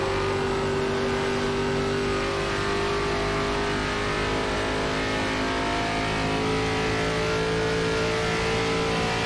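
Race car engine from an iRacing ARCA race at Pocono Raceway holds a loud, steady high-rpm drone with a constant tonal whine, running without downshifts and with no voices over it.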